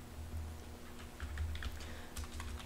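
Quiet computer keyboard typing, a run of soft clicking keystrokes in uneven bursts, close and alone with no talking.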